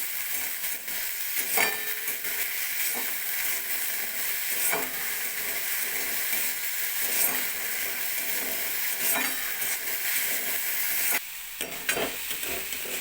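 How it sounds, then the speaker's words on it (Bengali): Soaked moong dal fried lightly in oil: a continuous bright sizzle and hiss runs throughout, broken by occasional stirring scrapes and soft knocks of a spoon, steady and fairly close with no talk. "মুগ ডালটা খুব বেশি ভাজবো না হালকা ভেজে নেব"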